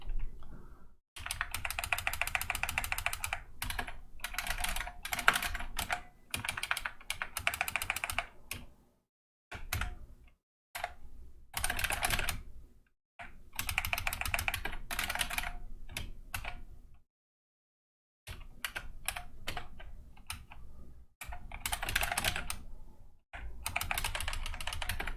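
Fast clattering keystrokes on a computer keyboard during game development work, coming in long bursts of typing broken by short silent pauses, close and clear with no speech.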